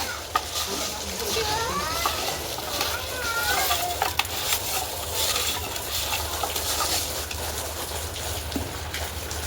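Chicken stirred in a frying pan with salt and turmeric, a steady close sizzle with scraping stir strokes throughout.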